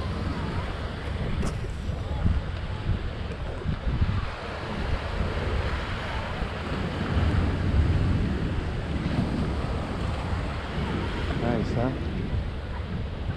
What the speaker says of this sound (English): You can see the waves are pretty big.